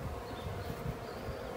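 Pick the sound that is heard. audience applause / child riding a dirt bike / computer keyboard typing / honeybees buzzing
honeybees buzzing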